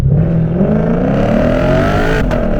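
A Lexus RC F with a loud exhaust pulls hard through first gear, its engine note climbing steadily and roaring close and dominant, a sharp pop near the end.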